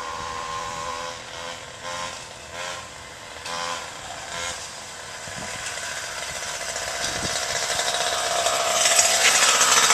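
A homemade scooter engine revs like a dirt bike, a buzzy, rattling drone that pulses a few times, then builds steadily louder toward the end, heard alone without talking.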